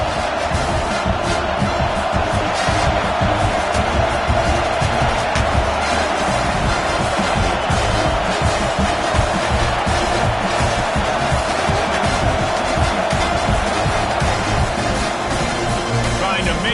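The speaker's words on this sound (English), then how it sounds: "Listen to this crowd just shaking the girders of this place, trying to help their defense" A packed Alabama football stadium crowd roars loudly and continuously for the defense, a dense wall of cheering with a commentator's voice running over it.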